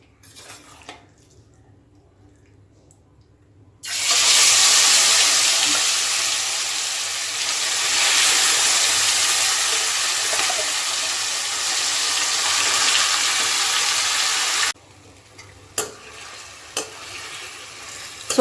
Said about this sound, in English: now I am frying this chicken